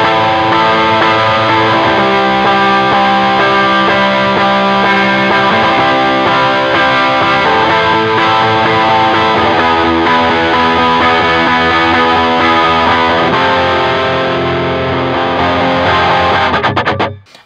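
Electric guitar rhythm part played through a blues drive pedal at modest gain, loud and sustained with dense, steady chords that cut off abruptly at the end.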